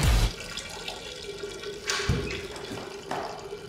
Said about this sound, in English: Now just reflect and listen to my urine hit the water.